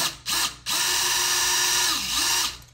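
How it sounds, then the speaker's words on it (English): A power drill backs screws out of a Schlage keypad deadbolt, loud and close, with a short burst followed by a longer run whose whine dips and rises as the screw turns out. "We're just going to go ahead and take these screws out."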